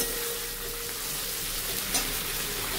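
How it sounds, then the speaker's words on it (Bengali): Potatoes and taro sizzle steadily in a hot pan as water is poured in, a continuous close frying hiss with a brief burst near the end and no talking. "এর মধ্যে এখন আমি পরিমাণ মতো জল দিয়ে দিই"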